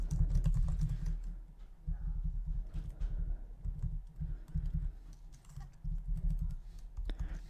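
HTML code is typed on a computer keyboard in quick, steady bursts of soft close key clatter with short pauses between runs.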